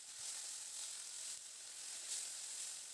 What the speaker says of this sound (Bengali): এবার পেঁয়াজটাকে দিয়ে বেশ হালকা করে বাদামি রং ধরা পর্যন্ত পেঁয়াজটাকে একটু ভেজে নেব।